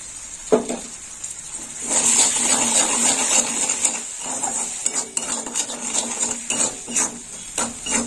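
Masala with green chilli paste sizzles in a pan while a utensil stirs and scrapes against the metal in irregular bursts, close and fairly loud, a bright hiss running underneath.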